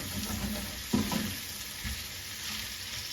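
Spinach and sun-dried tomatoes sizzle steadily in a hot pan, a continuous frying hiss with a few soft stirring knocks and scrapes.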